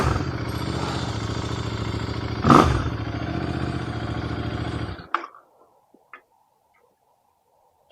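A motorcycle engine idles after a fuel filter change on a 650 bike, a steady low rumble with ticking valve clatter, a brief loud rev midway, then it cuts off abruptly into near silence with a few clicks.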